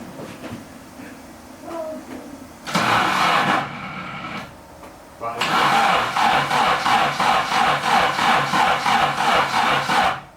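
A Ford Sierra Cosworth engine with a flat battery cranks in a rapid rhythmic churn, pauses, cranks again in a long steady burst, loud and close, with faint voices early on.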